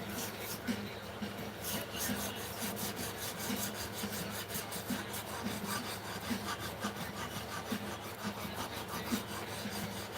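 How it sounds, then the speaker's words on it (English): A knife blade is sanded by hand with a leather-covered sanding stick, giving a close, steady back-and-forth rasping with quick repeated strokes throughout and no talk. "I know it's the dumbest sanding stick ever, but I love it."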